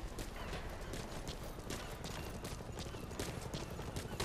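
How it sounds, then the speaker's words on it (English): Distant gunfire in Metal Gear Solid V: The Phantom Pain crackles in scattered bursts beneath a dense, steady wash of background noise, with no talking. "You can hear gunfire in the background as well."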